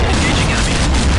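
A shotgun blasts in Counter-Strike zombie mode, loud and close, harsh booming reports smeared together in a short burst with a voice faintly underneath.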